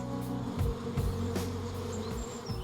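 Honey bees buzz steadily and close by, several insects droning with passing swells in pitch as they fly around in a garden setting.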